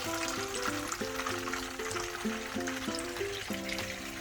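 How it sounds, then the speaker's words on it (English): Chicken fillets frying in oil make a continuous close sizzle. Tonal musical notes play over it. "We are going to fry the fillets in the same way"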